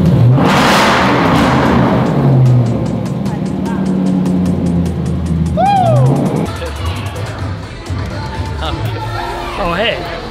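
A 2020 Lotus Evora GT at an outdoor car show, its engine roaring up in a loud rev near the start, then idling and blipping amid crowd chatter and nearby voices.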